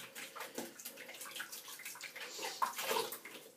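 Water from a tap splashes over a shaving brush as it is rinsed, a soft, quiet, steady trickle with small fluctuations and no talking.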